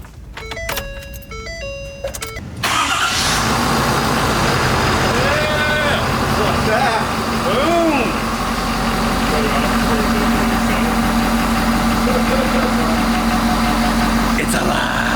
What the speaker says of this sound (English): so we're going to see if we can fire this truck up.